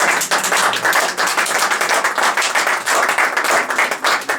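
A congregation claps in quick, steady rhythmic bursts during a Sunday church service, filling the room with close, energetic applause.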